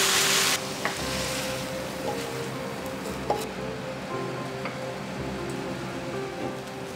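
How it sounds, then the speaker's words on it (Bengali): Food stirred in a pan over a raised flame while making homemade pan pizza, a soft steady sizzle with faint scraping and occasional clinks, close and quiet, no talk. "ফ্লেমটা একটু বাড়িয়ে নিয়ে কিছুক্ষণ নাড়াচাড়া করব।"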